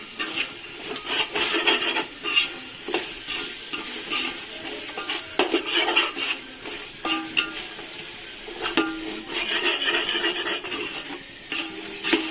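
Mutton biryani with handfuls of mint and coriander being stirred in a heavy-bottomed pot, a repeated close scraping and rasping of the spoon over a soft sizzle, with no talking.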